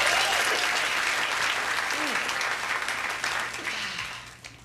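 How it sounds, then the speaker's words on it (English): Comedy club audience at a 1997 stand-up show bursting into applause on cue, loud and dense at first, then gradually thinning and fading toward the end, with a few faint voices and whoops in the crowd. "How many people, by applause, know what mime is? Mime? Applaud for me if you do."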